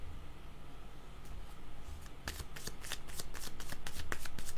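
A deck of cards is shuffled and drawn by hand, with a soft rustle building into a fast run of crisp riffling flicks that grow louder toward the end, close and with no talk.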